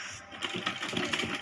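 A sewing machine stitches cloth during the making of a Rajputi kanchali blouse, a steady mechanical whirring chatter with rapid needle ticks running throughout, fairly close and moderately loud, with no voices.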